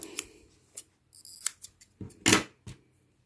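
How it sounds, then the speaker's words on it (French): Scissors snip red crochet yarn while finishing the mouth of an amigurumi alarm clock: several sharp, close snips come in irregular bursts, with one longer crisp cut near the end and no voice. "Je vais couper le fil rouge."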